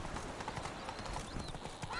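Roach, Geralt's horse in the video game The Witcher 3, clops along in a quiet, steady walk. The hoofbeats are soft and evenly spaced, with a voice talking faintly over them.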